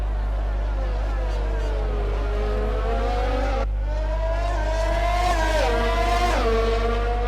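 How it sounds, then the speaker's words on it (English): High-revving Formula 1 engines in a racing video game, including Mercedes power units, whine and shift pitch continuously, rising and falling as the cars accelerate, over a steady low hum. "Listen to them Mercedes engines absolutely purring."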